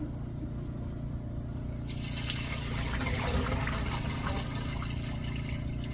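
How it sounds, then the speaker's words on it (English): A toilet flushes at a house with a blocked drain, starting with a sudden rush of water that settles into a steady gurgling flow over a low background hum. "You should give that a flush for us"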